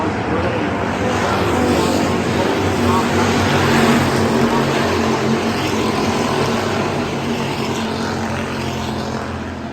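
Hobby stock race cars roar steadily around a dirt track during a feature race, a loud continuous engine drone that swells slightly midway, with an announcer talking over it.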